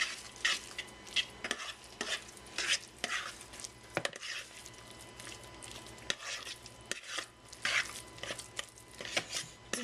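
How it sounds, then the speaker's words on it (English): Lasagna sauce mixed with two teaspoons of Italian seasoning, a spoon scraping and stirring through the thick sauce in a pot with steady wet swishes and occasional clinks, close and moderately loud, no talking. "And you're going to mix it together."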